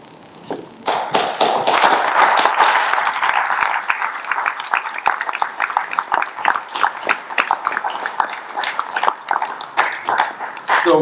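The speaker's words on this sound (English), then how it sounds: "So we're giving you applause because you're the future." Audience at a leadership conference applauding youth participants, with dense, sustained clapping from many hands, loud and close, continuing steadily for about ten seconds with some individual sharp claps standing out.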